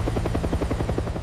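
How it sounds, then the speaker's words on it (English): A helicopter passes over the ruined Chernobyl reactor, its rotor giving a steady, fast low thudding chop that stays loud and even throughout, with no voices. "A helicopter crossed the ruined reactor"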